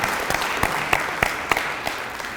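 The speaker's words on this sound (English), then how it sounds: "Can we have a round of applause for all of those folks" A small lecture audience claps for a program committee: distinct, fairly sparse hand claps in an irregular rhythm, close and moderately loud, dwindling toward the end.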